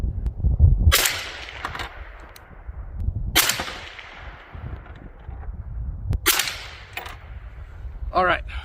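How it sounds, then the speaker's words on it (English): Rifle shots are fired at a target, three sharp loud cracks spaced a few seconds apart, each with a short ring-off. Outdoor background noise fills the gaps. "we will put some more rounds down that target and see how we did"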